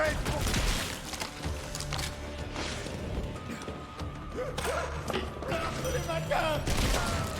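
Gunfire from a weapon in the video game Borderlands 3, bursts of crackling shots and impacts mixed with game effects, while someone talks over the action.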